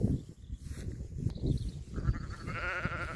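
Lambs and ewes, including older hoggets and sets of twins, bleat close by on a sheep farm: short overlapping calls followed by one drawn-out, wavering bleat at the end.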